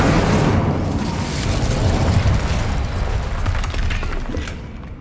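The Incendio fire spell cast in Hogwarts Legacy: a loud, dense roaring burst of flame that stays intense for several seconds, then thins and fades away at the end, with no voices.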